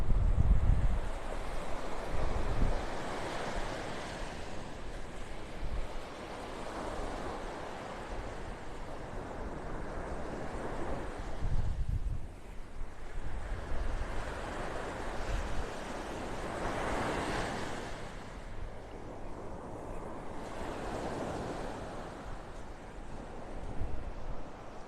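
Gulf Coast surf rolls onto a North Naples, Florida beach in steady, repeating washes, heard close and fairly loud and mixed with gusting wind across the microphone.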